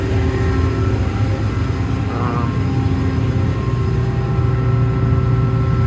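A combine harvester engine runs as a loud, steady, continuous drone with a low rumble and a constant hum, close by and with no clear change in level.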